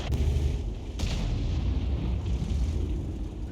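Artillery fire in World of Tanks, including a Conqueror Gun Carriage and M53/M55: deep booming shots with low rumbling, two distinct blasts close together and a lingering roar.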